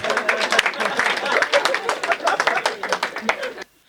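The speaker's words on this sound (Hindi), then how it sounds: "तालियां बजा दो" Audience at a Hindi comedy poetry gathering clapping together for almost four seconds, a dense, steady patter of many hands with a few voices mixed in, then stopping abruptly.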